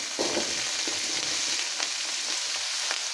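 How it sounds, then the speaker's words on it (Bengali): Chopped onions, onion stalks and potatoes sizzle and fry steadily in a pan, a continuous close crackling hiss with a few stirring scrapes and no talking. "আমি এখানে পেঁয়াজ কুচিটা আগে দিব, দিয়ে দেবো পেঁয়াজ কলি, দিয়ে দেবো আলু"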